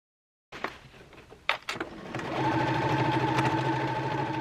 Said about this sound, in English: I am going to stitch the lining on the allowance.